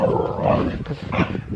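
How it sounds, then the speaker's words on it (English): Two dogs, a mother and daughter, growling and snarling playfully at close range, rough throaty rumbles rising and falling over a couple of seconds. "that's the noise you hear is Moa and Thelma, mother and daughter, playing"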